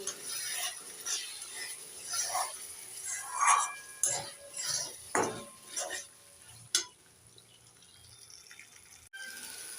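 A spoon stirs thick fish curry spice paste frying in oil in a pan, making rhythmic scraping strokes with a soft sizzle, close and moderate, ending in quieter clinks.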